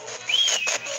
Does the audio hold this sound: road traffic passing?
no